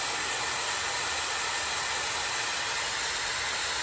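A Shark Flexstyle hair dryer blows cold air in a steady, loud, unbroken broadband rush that holds evenly throughout with no voices.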